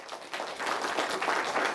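A congregation breaks into a short round of clapping, many hands together, moderately loud and a little distant, swelling after a brief pause and holding steady to the end.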